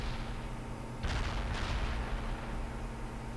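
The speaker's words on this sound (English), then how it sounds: "Commence artillery fire" Artillery barrage in the World in Conflict video game, a deep rumbling burst of distant cannon fire swelling in the middle over a low steady background hum.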